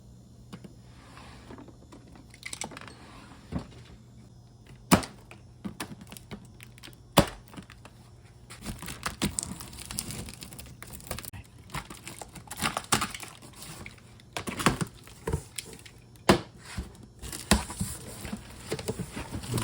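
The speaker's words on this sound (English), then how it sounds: "So let's go ahead and get a knife out and cut this box open." A knife slices open a cardboard box holding an air compressor, giving scattered cracks, crinkles and tearing rustles at close range, growing busier and louder in the second half with no talking.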